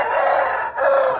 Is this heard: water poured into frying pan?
no